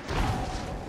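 A large-calibre shell glances off battleship armor in World of Warships, a brief dull thump inside a continuous broad rumble of engine and sea noise.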